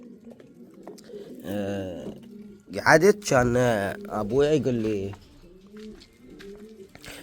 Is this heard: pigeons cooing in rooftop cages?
yes